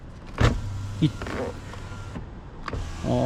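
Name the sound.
Kia Sorento Hybrid power windows automatically lowering and rising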